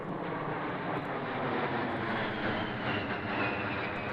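An A-10 jet aircraft passes overhead as a broad, continuous engine roar. It holds steady and loud throughout, with no voices.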